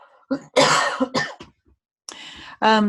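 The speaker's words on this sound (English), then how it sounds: "Excuse me, I'm going to cough." Several close coughs in short bursts, separated by brief pauses, with a voiced throat sound at the end.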